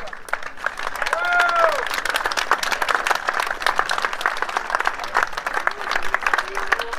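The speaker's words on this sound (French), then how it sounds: "je voulais que vous les applaudissiez ce soir vraiment fortement" An audience at a Vittel cycling championship podium ceremony applauds volunteers, with sustained crowd clapping throughout and brief tonal whistles or voices rising above it.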